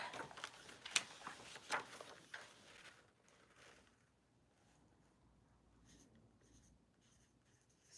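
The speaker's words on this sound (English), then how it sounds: "Let me write that number down." Pen scratching on paper as a number is written down by hand, several quick close strokes in the first few seconds, then near silence with faint faraway rustles.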